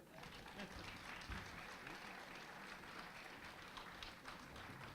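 An audience at an awards event claps for two honorees, a steady moderate wash of applause with scattered distinct claps and faint crowd murmur throughout.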